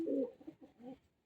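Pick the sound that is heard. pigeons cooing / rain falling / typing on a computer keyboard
pigeons cooing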